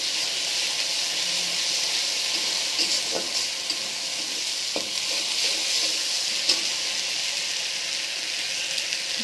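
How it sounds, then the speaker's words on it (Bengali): Masala spice paste frying in a pan with aloo, a steady loud sizzle and hiss with light scraping stirs throughout. "মশলাটা কষে নেব।"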